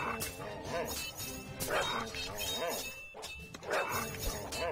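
Dog-like enemies yip and bark in Kingdom Rush Frontiers, several sharp bursts over busy tower-defense game sounds and music, with a voice talking over the action.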